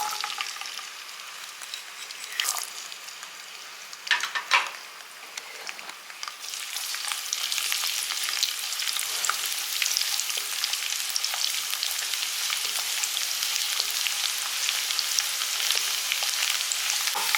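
About ten cut garlic cloves frying in sesame oil: a quieter start with a few sharp crackles, then a dense, steady, close hiss of bubbling oil that swells and holds for the rest of the stretch.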